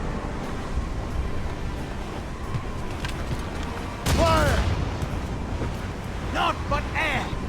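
Ship cannons fire a volley at sea in Assassin's Creed Rogue, heavy booms bursting out over steady wind and surf, with a second, smaller burst a few seconds later and shouted voices among the din.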